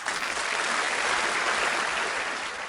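Steady, dense applause from a crowd greeting the president of an investment company at a formal announcement, sustained and fairly loud throughout without pause.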